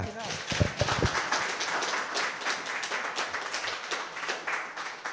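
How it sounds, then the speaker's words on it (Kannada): Audience applause and clapping at a church gathering, a dense crowd of hands clapping steadily through the whole stretch with some louder nearby claps early on. "ಅದಕ್ಕಾಗಿ ಒಂದು ಚಪ್ಪಾಳೆ ತಟ್ತೀರಾ?"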